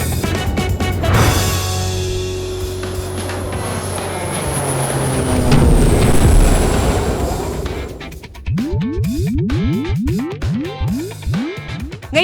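An airplane engine drones in a long rising and falling whoosh that swells and fades, then gives way to a rapid series of swooping electronic chirps.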